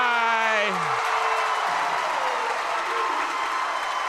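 Crowd at a boys' high school basketball semifinal cheering and applauding in a gym, a broad roar that swells then settles, with a whistle-like tone sliding down early on.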